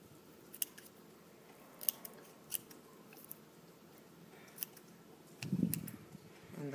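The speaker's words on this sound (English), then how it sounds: "And now I'll be cutting the tape off." Scissors cutting tape off taped-up fingers after water-marble nail art, a few sharp close snips spaced irregularly over quiet background, with a louder rustle near the end.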